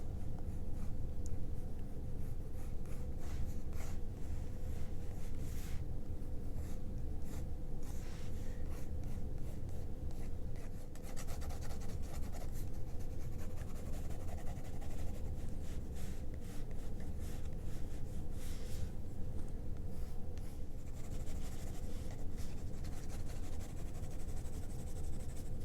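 Orange Derwent watercolor pencil scratching steadily across paper, a continuous close, dry rubbing texture that persists the whole time without pause.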